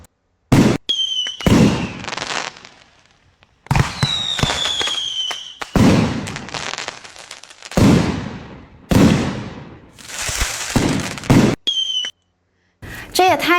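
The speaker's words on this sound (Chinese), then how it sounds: "这是放烟花的。" AI-generated fireworks go off in repeated rounds: rising whistles are followed by loud, crackling bursts that ring out and fade, separated by brief near-silent gaps.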